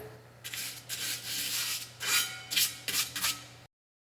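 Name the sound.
cleaning a car's spindle backing plate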